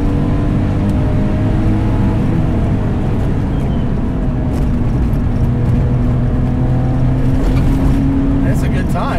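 Engine of a 515 hp RUF 996 RTurbo, a Porsche 996-based car capable of 210 mph, droning steadily from inside the cabin while driving, a constant low rumble with road noise throughout.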